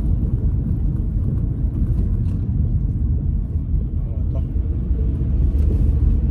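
Low, steady car rumble in a parking lot, a continuous engine drone close by with occasional faint thumps, and someone talking over it.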